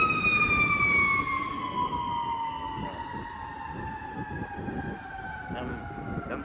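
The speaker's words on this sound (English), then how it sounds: "Them sirens be loud" A fire truck siren wails loudly nearby, its long tone sliding slowly downward as it passes, with traffic rumbling underneath.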